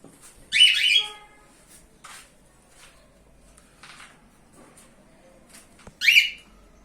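Sharp chirps and squawks from Japanese budgerigars tending four chicks come in short, scattered bursts between quiet stretches, with softer chatter in the background.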